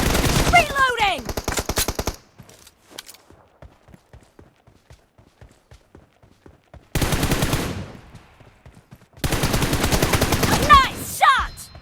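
Automatic weapon fire in the PUBG Mobile video game comes in loud rapid bursts, with a quieter spell of scattered single shots between them and sharp ringing ricochet-like tones near the start and end.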